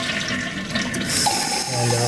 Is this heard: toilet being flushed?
yes